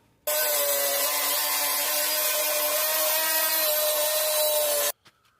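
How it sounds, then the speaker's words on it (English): Abrasive wheel grinding rust back to bare metal on the floor of a 2010 Ford Transit Connect, one loud continuous steady whine lasting several seconds before cutting off abruptly. "What a difference after the wheel hit this. I'm really getting the rust off now."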